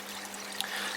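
Water runs steadily through aquaponics filter plumbing with a continuous close trickling wash and a low steady hum beneath, one brief splash near the middle.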